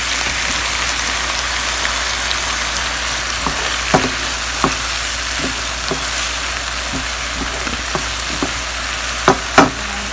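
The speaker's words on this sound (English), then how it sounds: "To keep mixing things around until all the rice is coated" Vegetable fried rice fries over high heat in a pan with soy sauce and vinegar, a constant rain-like sizzle broken by sharp scraping knocks of stirring that come more often toward the end.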